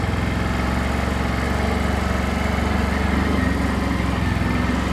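A 2025 CFMoto CForce 1000 Touring ATV engine runs under light throttle, a steady close rumbling drone with a fast even pulse and no voices.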